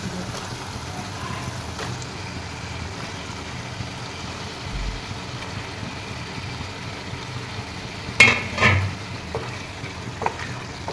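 Chicken pieces frying in oil over low heat for a tomato chicken curry, giving a steady, quiet sizzle with a few louder clatters of stirring near the end.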